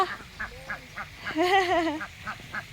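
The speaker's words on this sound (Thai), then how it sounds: "เดี๋ยวเราจะพาไปดูเป็ดนะคะ นี่เจอแล้วหนึ่งตัว" Ducks quack repeatedly in a lush, green-watered nature garden in Ayutthaya, a run of short nasal calls with one longer wavering quack in the middle, fairly close and alone without talk.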